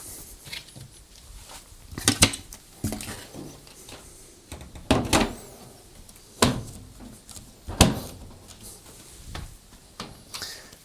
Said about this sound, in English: I can refit our soap drawer. And next, replace the top.